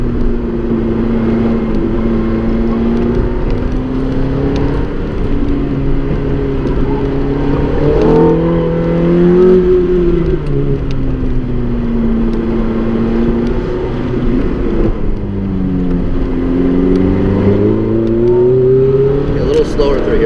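A Ferrari F430 or Porsche GT3 runs an autocross course, its engine droning steadily and rising and falling in pitch through the turns, loud and close from inside the car, with people talking over it.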